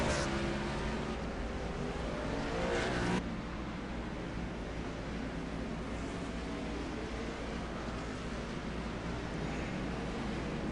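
Steady engine roar from race cars in the NASCAR iRacing series at Sonoma, with a brief louder pass in the first three seconds before settling into a constant broadband drone.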